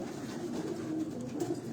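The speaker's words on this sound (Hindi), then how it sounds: "काबली कबूतर है माशाल्लाह" A Kabli pigeon coos softly and steadily at close range, a low continuous murmur of cooing lasting under two seconds with no voices.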